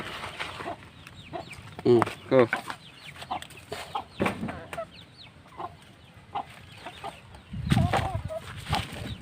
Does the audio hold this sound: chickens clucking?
yes